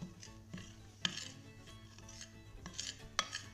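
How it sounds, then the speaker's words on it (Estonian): Curd, sugar, egg yolk and a pinch of salt being stirred into a dough in a bowl for a curd and blueberry cake, with soft scraping and a few sharp clinks of utensil against the bowl, close and fairly quiet. "siis segan selle tainaks"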